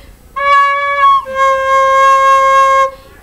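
A recorder plays a steady, clear note, then slides to a slightly lower pitch and holds it for about two seconds, played correctly; no voices.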